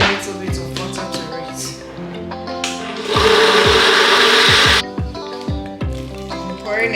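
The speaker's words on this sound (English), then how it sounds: "That's your half onion, I'm going to blend it." Countertop blender whirring through half an onion with a little water for okro soup, a loud roughly two-second burst amid clattering kitchen sounds and pitched knocks.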